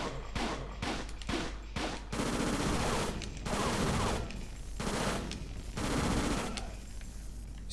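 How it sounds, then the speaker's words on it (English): Rapid bursts of automatic gunfire from the video game Fighting Force 2, several loud sustained volleys separated by short pauses, with game sound effects running underneath. "Trying to shoot me up while I'm busy dealing with someone"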